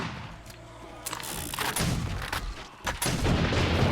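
Defensive turrets fire in the zombie survival game 7 Days to Die, loud rapid bursts of gunfire crackling in clusters with brief pauses between them over a low rumbling background.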